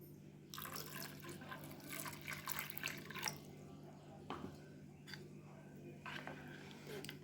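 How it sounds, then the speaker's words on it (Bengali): Water poured slowly into ground sago batter for papad, a soft trickling and splashing pour in bursts with brief pauses, close by and alone. "এবার আমি কিছুটা জল দিয়ে দেবো।"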